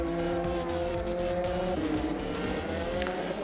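Euroformula Open race cars at Spa roar past in a steady, loud engine drone whose pitch shifts down partway through as one car slipstreams past another, with no voices.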